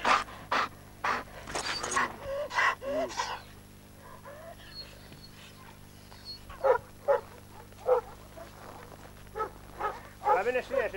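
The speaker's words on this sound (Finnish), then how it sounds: "Miehen mittainen koira." A large dog panting heavily in a 1985 dog kennel yard, rapid rhythmic breaths close to the microphone, with people speaking intermittently over and between the bursts.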